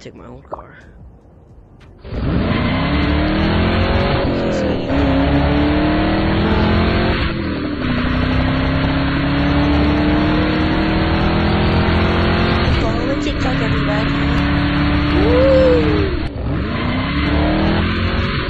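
A car engine in a VR video game revs and drives continuously, with rising and falling engine pitch and occasional shifts, loud and close, while a person talks over it.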